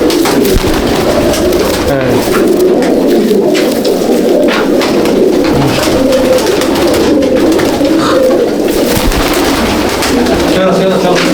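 Pigeons coo in a crowded loft in Akra, Kolkata, a dense, continuous flutter of low murmuring calls and wing noise close by, with voices talking faintly in the background.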